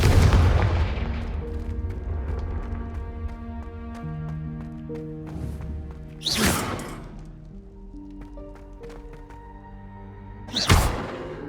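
Confringo spell explosions in the Hogwarts Legacy video game: a heavy blast at the start, then two sharp booming bursts several seconds apart over a sustained musical drone.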